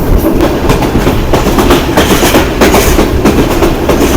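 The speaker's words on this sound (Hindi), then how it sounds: "ज़बरदस्त धुआंधार स्पीड से चलता हुआ 4566 ग्रीन लाइन को दौड़ाए चला जा रहा है।" Pakistan Railways Green Line train 4566 running at high speed near the Jhelum river bridge, a loud steady rumble with rhythmic clickety-clack of wheels over rail joints throughout, close and continuous.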